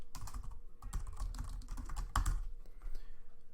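Someone types a prayer request subject on a computer keyboard, a quick, uneven patter of close key clicks with one or two heavier strokes, and no voices.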